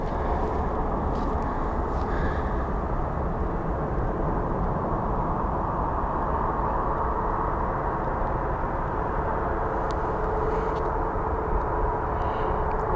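A steady, broad jet engine roar from an airplane at Phoenix Sky Harbor International Airport fills the air evenly and continuously, with no talking over it.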